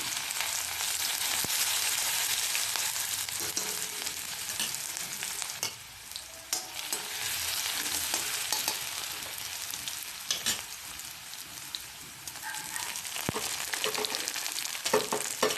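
Panch phoron, sliced onion and ginger-garlic paste sizzle in hot oil in a pan, a steady close-up crackle broken by stirring scrapes and small spits, easing slightly partway through before picking back up.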